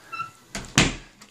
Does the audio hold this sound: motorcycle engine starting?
no